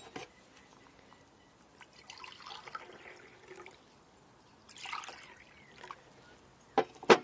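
Water trickling and dripping as it is washed through soil samples during irrigation, faint intermittent pouring with a few brief splashes and a sharper drip near the end, otherwise quiet.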